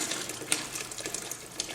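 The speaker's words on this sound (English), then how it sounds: "I twist my hand and then start to pour my glaze" Ceramic glaze pours onto a vase with a close, continuous liquid splashing and trickling, broken by small drips and taps.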